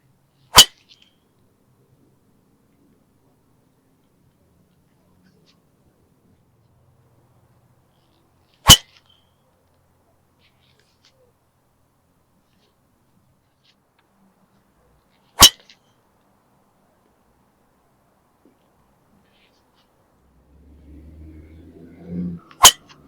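Four sharp, loud cracks of a Srixon ZX5 LS MK II driver striking a golf ball on a driving range, spaced several seconds apart in near silence, with faint low rumble near the end.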